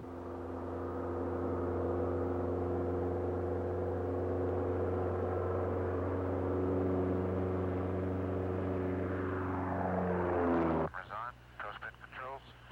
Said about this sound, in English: Patton noses the aircraft skyward till the small plane stalls